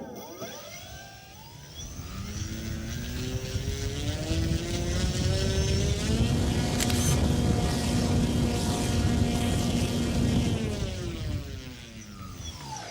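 AM850 motor on a bench test powered by 12S packs at about 50 volts, spooling up into a loud rising whine with clear tonal harmonics, holding steady at high speed, then winding down.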